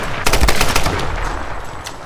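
Rapid bursts of gunfire in the video game Tomb Raider, a quick volley of loud, close shots in the first half that trails off into a sustained noisy wash, with one more sharp crack near the end.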